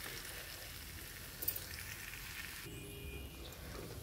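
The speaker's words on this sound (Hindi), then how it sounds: "ये मसाला हमारा फ्राई हो रहा है" Masala for a besan lauki sabzi fries in a pan, giving a soft, steady sizzle with faint crackles throughout, heard quietly and alone.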